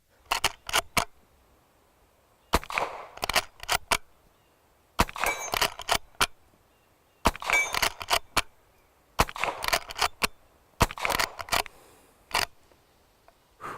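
A Rossi 1892 Winchester reproduction lever-action rifle firing cowboy loads outdoors, sharp loud reports in quick strings of two to four shots, separated by brief pauses and metallic lever clacks.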